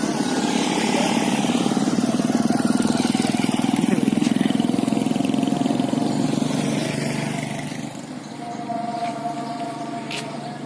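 Motorcycle engine running steadily up close with a child aboard, on the way to a village mosque for Eid prayer, a continuous droning hum that eases slightly toward the end.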